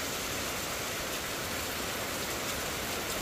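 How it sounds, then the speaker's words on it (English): Steady rain drums on a camper awning at Lion's Bay Lookout near Airlie Beach, Queensland, in windy weather, a dense continuous hiss with no voices. "Super windy and rainy again."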